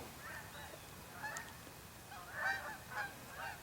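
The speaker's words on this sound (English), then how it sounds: "Every day in October I had geese and ducks flying overhead" Faint honking of geese passing overhead, several calls scattered and distant, with no other sounds.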